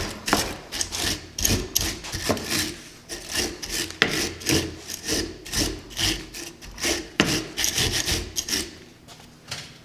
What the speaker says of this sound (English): Take our slag off with the brush.